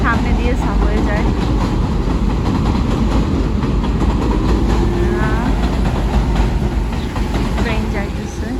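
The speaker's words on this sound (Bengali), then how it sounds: "ট্রেন যাইতেছে।" A train rolls past a home in Jackson Heights, New York City, as a loud, steady rumble that fills the whole stretch and eases slightly near the end, with faint higher squeals mixed in.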